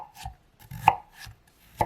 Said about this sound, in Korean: 당근은 돌려가면서 어슷하게 썰어주세요.